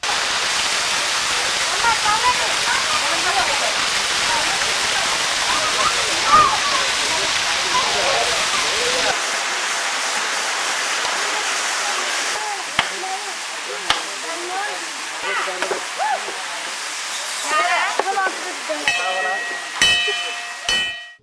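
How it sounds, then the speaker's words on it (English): Waterfalls spill beside the Gubbala Mangamma Talli temple cave in India, making a steady broadband rush that fills the first half and then thins into a softer wash with scattered clicks and brief tonal sounds. "Another two goddesses called Gangamma and Nagamma are also residing here beside beautiful waterfalls."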